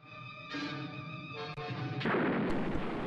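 Loud, continuous war-film combat audio of explosions and bazooka fire, a dense, roaring blast that swells and thickens near the end, with sharp cracks punctuating the rumble.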